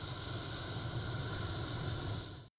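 Helicopter carrying prosecutor's office staff on visits in the Nenets region, a loud steady whine and engine roar heard close, continuous for about two and a half seconds before cutting off abruptly.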